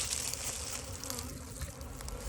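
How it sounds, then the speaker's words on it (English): A honey bee swarm being caught from a tree limb, its dense, steady buzzing filling the air close by and without a break, with no voices. "the bees will just fly back out and go right back up to the tree limb"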